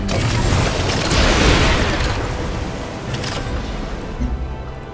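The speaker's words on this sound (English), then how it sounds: "let the bombardments begin" Artillery bombardment in the strategy game Civilization: Beyond Earth – Rising Tide, a dense, continuous rumble of booming explosions that swells early and stays loud throughout, with no talk over it.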